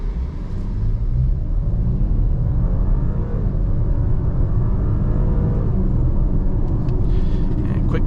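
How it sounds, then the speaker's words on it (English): A 2024 Audi Q8 55 Premium Plus with a 3-liter turbocharged V6 pulls hard at full throttle, heard from inside the cabin as a loud, continuous low engine rumble and road roar holding steady throughout. "So what I'm going to do is just mash the throttle"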